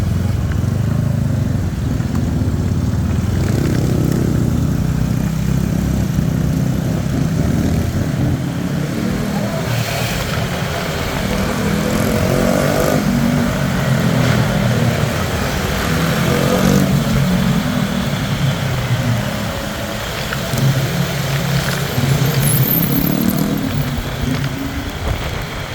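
Dense scooter and motorbike traffic fills a city street in Thailand, a steady loud wash of small engines droning and revving past without pause, with faint voices mixed into the roar.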